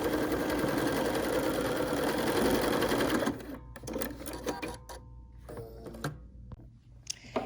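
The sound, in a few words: Bernina sewing machine stitching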